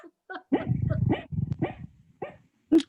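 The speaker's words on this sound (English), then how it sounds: "he only barks in his sleep" A dog barks in its sleep, giving a run of soft, muffled woofs and whimpering yips, sleepy and irregular, close by in a quiet room.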